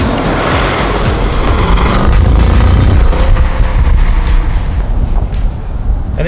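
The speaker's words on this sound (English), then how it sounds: "the other advantage of having a V8 is you get that V8 burble" Bentley Flying Spur V8 S engine burbles steadily in a low, rumbling drone with continuous road and tyre noise, fairly loud and close throughout.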